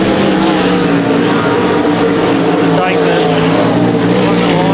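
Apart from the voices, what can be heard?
limited sprint cars racing on a dirt track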